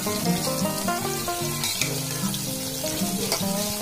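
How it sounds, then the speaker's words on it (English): Brinjal slices marinated in turmeric and salt frying in a pan, a steady close sizzle running throughout with layered music playing over it. "And then it will be fried."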